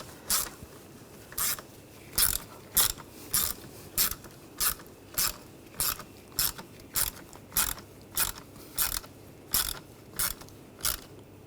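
A hand ratchet snugs down wiring harness screws on the engine of a 2007-2013 BMW X5 3.0L inline-six, giving a steady series of crisp, close clicks in an even rhythm for the whole stretch, with no talking.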